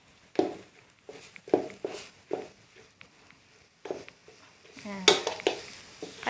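Minced pork stir-fried for Thai khua kling in a pan, with a series of scraping, clattering spatula strokes and faint sizzle at close range, and occasional louder metallic knocks.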